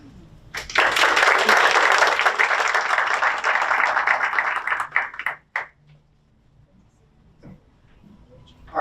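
Audience applause for Estrella, a PUHSD Student of the Month honoree, at a school recognition event: a dense burst of clapping swells for about five seconds, then quickly dies away into near silence.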